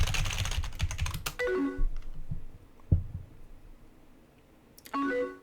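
Keys clatter on a mechanical keyboard while someone plays the game Emily Is Away: quick bursts of close clicking keystrokes, with short stretches of a voice talking in between.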